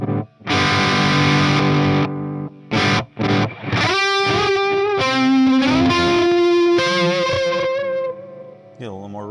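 An electric guitar played through a Walrus Audio Mako D1 delay pedal rings out in loud, distorted chords and sustained lead notes, with echoing repeats trailing each phrase and a brief pause between bursts.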